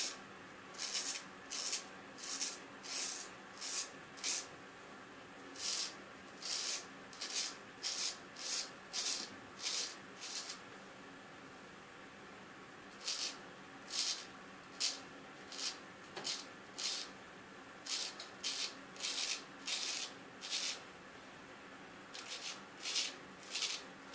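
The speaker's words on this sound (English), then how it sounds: "You can probably hear it cutting. It sounds aggressive." Straight razor scraping through stubble during a shave, a close series of short rasping strokes in steady rhythmic bursts with brief pauses, no talking.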